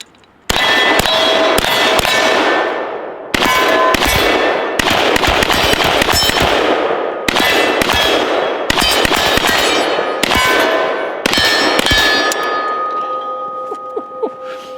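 A Zastava M72 light machine gun, an RPK-pattern rifle, fires in several loud, close bursts separated by short pauses, with sharp metallic reports and ringing decays between volleys.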